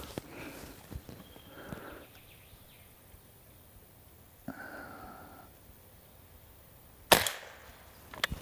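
A Benjamin Sheridan Blue Streak .20 caliber air rifle fires one sharp, near crack late in the stretch, with a few faint knocks and thumps scattered before it and no talk.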